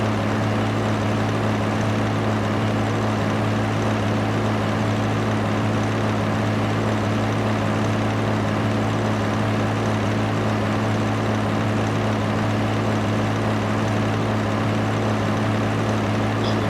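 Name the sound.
tractor engine in a video game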